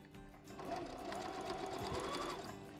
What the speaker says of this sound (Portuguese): eu vou costurar do outro lado, porque assim ele não vai esticar tanto.